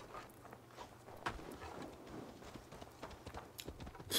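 Steady clip-clop of horse hooves trotting along in the game Assassin's Creed Valhalla, soft and continuous, mixed with faint scuffs and background noise.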